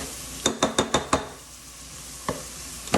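Onions and red pepper cooking in a hot pan, with a quick run of five sharp stirring or scraping clicks, then a quiet sizzle and a couple of further isolated knocks near the end.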